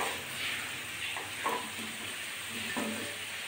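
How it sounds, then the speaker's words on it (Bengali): Okra frying in oil in a wok with bay leaf, a soft continuous sizzle with a few faint stirring scrapes, quiet and close. "এবার আমি ভেন্ডিগুলো ভাজবো"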